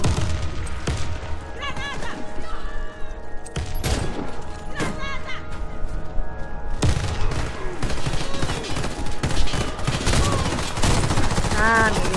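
Dense gunfire from a shooter video game, with a Saiga bullpup shotgun in play: rapid repeated shots and bursts fill the whole stretch loudly, with brief pauses, occasional crashes and faint game sounds underneath.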